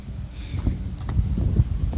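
Gusty wind buffets an outdoor microphone, a low rumbling, uneven roar that swells and fades over a couple of seconds with no clear speech.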